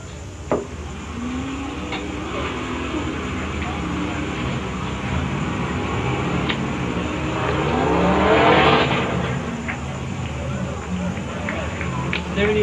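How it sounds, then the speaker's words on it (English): A 1979 GMC truck races in competition, its engine droning and revving continuously at moderate distance and swelling louder as it nears, while people talk over it. "This is 79 GMC he's driving here."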